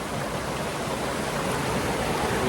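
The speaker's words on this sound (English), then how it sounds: "There's a little kind of slide waterfall" A small slide waterfall at a Colombian hiking spot, steady broadband rushing water, loud and close, continuous with no voices.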